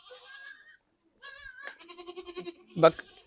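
Goats bleat loudly and close by on a goat farm, several wavering calls in quick succession ending in a harsh louder cry.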